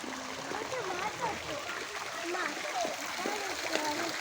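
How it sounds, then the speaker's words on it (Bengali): Water falls steadily into a park fountain, a continuous splashing rush heard close by, with voices chattering over it throughout. "ওই যে ওই জল পড়ছে ওখানে"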